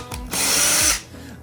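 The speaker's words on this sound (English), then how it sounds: "we're just pre-drilling to create boxes" A power drill bores pilot holes in 1x12 boards held in a jig, one short high whine of about half a second ramping up and cutting off, close and alone.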